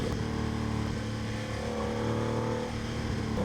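Porsche 993 with its air-cooled flat-six idling and the cooling fan whirring, a steady droning hum with strong low tones, close and continuous without any voices.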